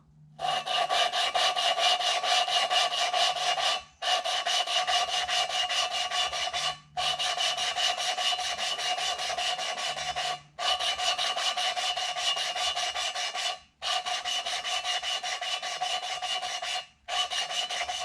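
A thread tap cutting threads in a 2009 Hemi engine block makes a gritty rasping scrape that repeats in long strokes, each lasting a few seconds with short pauses between, steady and close without talk.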